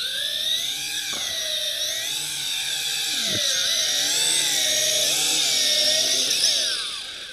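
A JJRC H26D camera drone with gimbal flies nearby, its small propellers giving a loud, continuous high-pitched whine that wavers in pitch as it manoeuvres, alone throughout.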